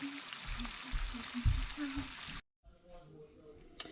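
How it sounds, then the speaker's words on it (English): Chorizo frying in butter in a pan, a soft crackling sizzle with low thumps of stirring, cut off abruptly and followed by quieter kitchen noise and a sharp click. "Get your chorizo cooked good in this pan."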